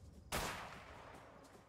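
A single sharp gunshot in the video game A Way Out cracks out, loud and close, trailing off into a fading rumbling echo.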